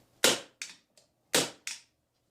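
An Alu900 stapler firing staples into wood at maximum pressure, giving sharp loud snapping clacks in two quick groups, each a strong shot followed by a lighter one, close and alone with no talk.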